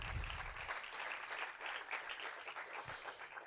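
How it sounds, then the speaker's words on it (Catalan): An audience at a political closing event in Mallorca applauds, a steady wash of many hands clapping at a fairly even level throughout, faint and distant in the room. "un aplaudiment per ella"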